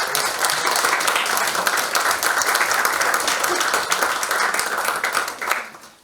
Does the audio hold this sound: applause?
yes